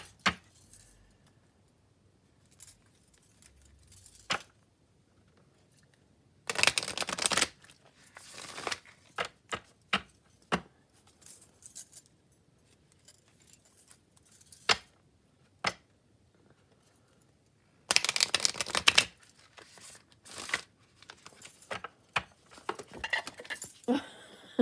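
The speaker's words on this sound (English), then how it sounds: "I'm going to do a few hard shuffles on the table here" Crisp bursts of playing cards riffling against a table, two long shuffles among scattered taps, slaps and card handling, close and loud.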